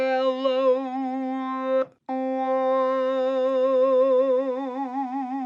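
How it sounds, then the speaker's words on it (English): A Korg microKORG talk box patch gives a steady, vowel-like synth tone whose pitch wobbles under LFO2 modulation. A brief gap splits the tone, then it resumes with a slow, regular vibrato, heard alone. "so it'll sound something like this"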